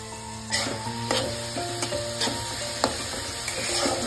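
Carrots are stir-fried in a pan with lightly browned garlic and ginger, giving a steady sizzle. Several distinct clinks of a spatula against the pan recur at irregular intervals over the frying.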